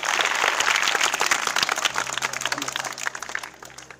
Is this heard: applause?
yes